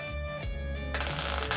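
Gas welding torch running with too weak a flame, giving a close, rapid crackling and popping that starts partway in over a low hum.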